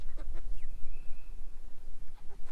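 A few scattered clucks and squawks from Meyer Hatchery chickens nearby on a homestead, brief and irregular, over a low background rumble.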